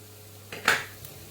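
A utensil stirs sliced garlic, cinnamon and allspice in a pan for a Greek chicken stew, giving a short close scrape and clink of metal against cookware, with a fainter tap shortly after.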